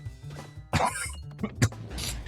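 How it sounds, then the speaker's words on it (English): A person coughs several times in close, harsh bursts, with a throat-clearing rasp in between. "Sorry, got a horrible cough."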